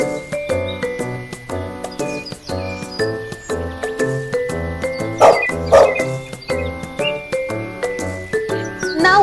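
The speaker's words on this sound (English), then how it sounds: "It's a dog." Two quick dog barks from an animal flashcard toy pop out midway over a steady, cheerful rhythmic tune that plays throughout.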